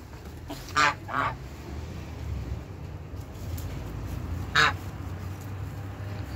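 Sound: poultry loudly calling in a garden

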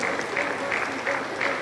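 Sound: applause in church

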